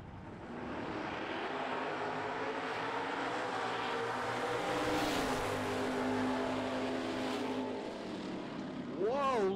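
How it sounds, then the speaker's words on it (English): Drag racing cars at a no-prep drag race roar down the strip, a loud sustained engine drone with shifting pitch, while an announcer talks over the noise and a rising whine appears at the end. "what a drag race"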